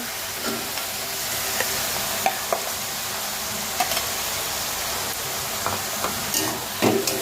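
Grated bottle gourd frying in a pan, a steady close sizzle and hiss with occasional soft stirring taps and scrapes.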